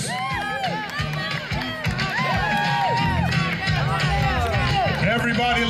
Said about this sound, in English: Cheer them on, guys, let's hear you cheer them on.